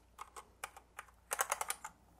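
Keystrokes on an EPOMAKER EP84 75% hotswap mechanical keyboard with Gateron Brown switches and PBT keycaps: a few scattered clacks, then a quick burst of about eight rapid presses, close and crisp with no talk.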